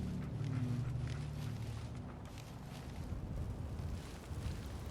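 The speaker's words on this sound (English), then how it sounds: "Okay, it's just a fire." A fire burns in Fallout 4, a steady low roar and crackle with a faint rumbling hum running underneath, heard alone without any talk.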